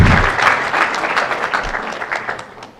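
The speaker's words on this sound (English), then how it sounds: "Let's give him a mighty hand clap." Dense, loud applause from a large audience at a university freshers' orientation event, steady hand clapping that gradually tapers toward the end.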